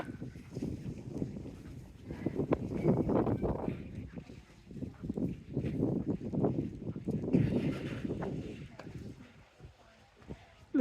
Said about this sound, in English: And we're back in the wind again.